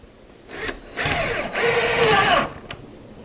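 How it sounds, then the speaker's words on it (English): A power drill drives short screws through a wooden picket-fence shutter at a window opening: two or three close whirring bursts rising in pitch, the last lasting about a second, then a brief click. "all I can do is put these screws in."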